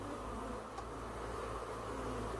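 Africanized bees swarming around an opened hive frame packed with larva, a dense, steady close-up buzz with no voices.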